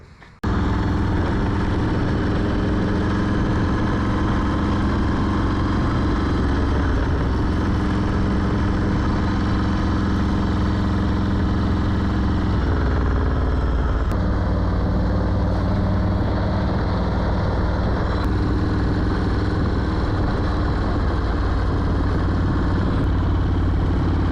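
A motorcycle engine with a refitted exhaust runs steadily and loudly for the whole stretch, a continuous idling rumble with slight shifts in pitch and no speech.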